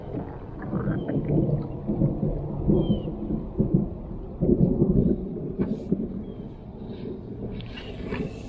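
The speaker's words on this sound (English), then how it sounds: "Oh, I'm hearing thunder right now." Low thunder rumbles on and off through a storm near inshore water while out snook and tarpon fishing from a small Gheenoe boat, a steady heavy roll with louder swells partway through.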